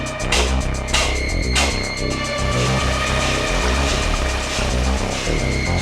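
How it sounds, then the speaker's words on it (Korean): A loud mechanical motor pumping latex up to a third-floor storage room throbs and pulses steadily, with a low rhythmic hum and some clanking, running continuously nearby. "모터를 통해 라텍스를 3층의 원액 보관 창고로 끌어올리기 시작했다."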